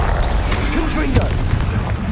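Confringo fire spell blasts in the video game Hogwarts Legacy, a loud booming burst with crackling impacts amid dense, continuous game combat noise.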